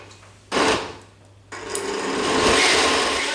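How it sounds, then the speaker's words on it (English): A blender whirs in bursts as it blends roasted tomato and fennel soup, with a short loud pulse followed by a longer, steady grinding run close by, with no talking. "all I'm going to do is simply blend these ingredients together"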